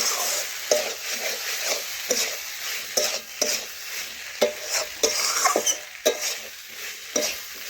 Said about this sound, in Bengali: এখন আবারও 1 মিনিট ভালোভাবে নাড়াচাড়া করে নিচ্ছি